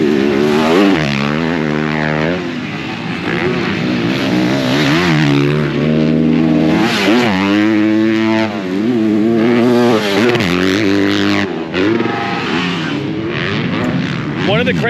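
Motocross motorcycles racing on a track, engines wailing and revving up and down in overlapping pitches as bikes pass close by, loud and continuous with a voice speaking over them.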